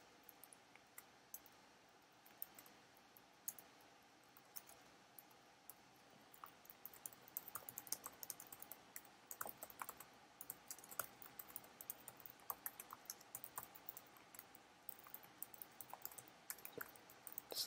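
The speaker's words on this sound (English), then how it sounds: "It's a lot of typing right now." Soft, continuous computer keyboard typing while writing C code, a quiet patter of rapid key taps that grows busier, with occasional louder clicks.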